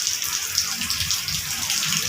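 Water runs from a kitchen sink faucet in a steady, close, fairly loud stream, with no pauses.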